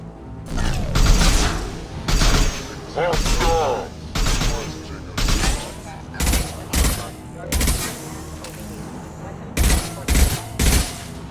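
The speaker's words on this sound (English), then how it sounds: "He's gunning down his own crew to keep control?" Bursts of gunfire in the video game Mass Effect 2, arriving in roughly a dozen loud volleys spread across the stretch, with game dialogue and voices heard between and over the shots.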